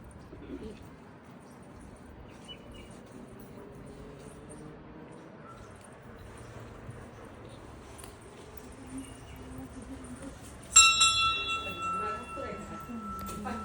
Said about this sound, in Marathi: सगळ्यांनी घंटी वाजवली